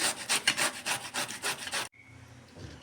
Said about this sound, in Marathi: बघा आता आपण दुधी किसून घेऊया